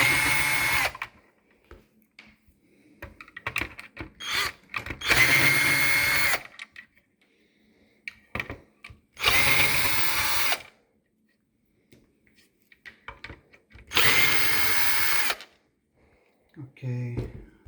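A power drill driving out screws on a Beko Turkish coffee machine under repair, three loud whirring bursts of about a second each separated by pauses, with small handling clicks and knocks between them.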